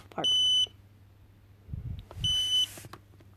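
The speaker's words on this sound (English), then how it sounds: "Sorry about that beep" Two high electronic beeps from a DJI Spark drone sound about two seconds apart, clear and close, with faint rustling in between.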